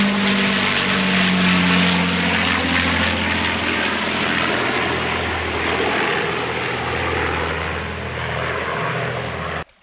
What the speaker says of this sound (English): It was definitely like a vintage style plane. I want to say Flying Fortress or something like that